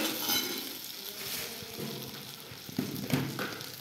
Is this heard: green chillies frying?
yes